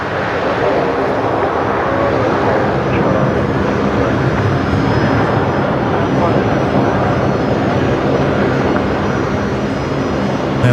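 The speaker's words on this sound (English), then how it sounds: "there's Qantas 542 touching down" A Qantas jet airliner touches down at Brisbane Airport with a sustained, loud engine roar. It holds steady across the whole stretch, with a broad rumble underneath.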